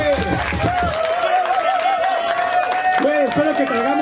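Crowd noise at a Mexican freestyle rap battle at Festival Kumutú, with clapping and babble under a loud voice shouting over it, continuous and close throughout.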